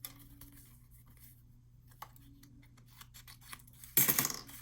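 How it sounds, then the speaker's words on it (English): Scissors snipping corners off card paper for a Halloween card, a few quiet close cuts in a sparse room followed by a louder rustle of paper. "So let me just cut off some of these corners."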